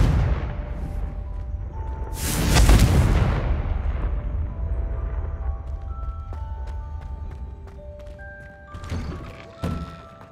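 Confringo blasting spell going off in Hogwarts Legacy, a loud deep thudding explosion that swells and fades over about a second, followed by lingering rumble and a couple of smaller magical impacts near the end.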